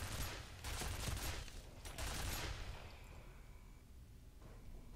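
Rapid gunfire in the video game F.E.A.R., a loud burst of overlapping shots at the start and again around two seconds, then tapering into fainter scattered reports and a lingering ring, with no talking.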